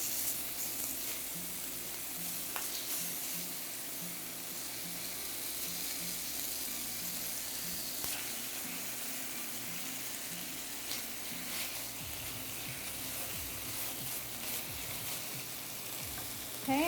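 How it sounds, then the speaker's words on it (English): Keto beef bulgogi strips frying in a hot skillet give a steady, close sizzle with faint stirring and scraping movements, continuing without talk for the whole stretch. "cook this for a couple of minutes on each side. It's already starting to get brown."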